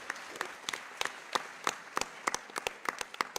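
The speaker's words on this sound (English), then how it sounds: "you can clap for each one" Sparse scattered clapping from a small audience at a health care panel discussion, individual sharp claps arriving irregularly and fairly close, with no voices over them.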